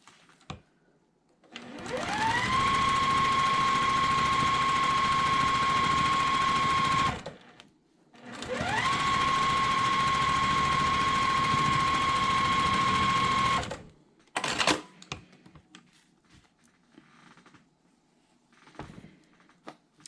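A sewing machine stitches a quilt row in two long, steady bursts of several seconds each, a whirring motor hum rising to a constant pitch then stopping, followed by short clicks and handling noises.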